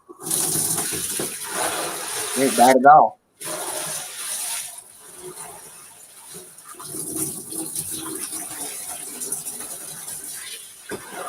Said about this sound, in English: Y'all about to hear some water running.